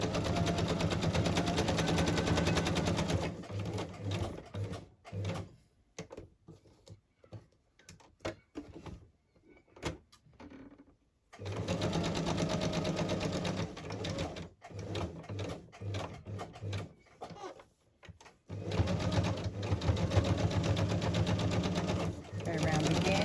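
A sewing machine stitches across fabric for a handmade embellishment cluster in loud, close bursts of rapid mechanical chatter, stopping and restarting several times with quieter pauses between runs.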